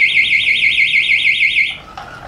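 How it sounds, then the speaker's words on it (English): A homemade mechatronic bike lock alarm sounds after being moved, a loud warbling electronic siren pulsing steadily for nearly two seconds before it stops, followed by a faint click. "And if it's moved for 3 seconds, an alarm will go off."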